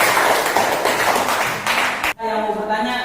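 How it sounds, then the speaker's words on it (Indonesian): A classroom of students claps for a presenting group, with a dense burst of applause that stops abruptly and gives way to a voice speaking. "Tepuk tangan untuk kelompok"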